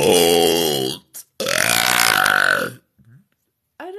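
A woman belches close and loud, drawing two long voiced burps out as if shaping a word, with a short gap between them and brief faint sounds afterward.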